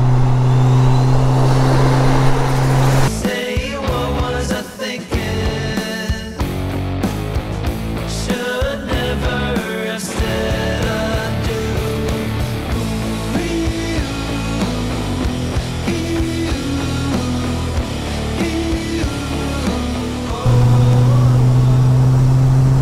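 Engine of a 196bhp Ford Fiesta RS Turbo driven flat out, loud and close, with rising revs, sharp gear changes and repeated pulls through the gears over about twenty seconds, no talk.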